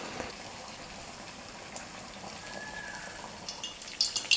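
Sweet rice-flour appam frying in oil in a kadai makes a soft, steady bubbling sizzle, with a few louder crackles near the end.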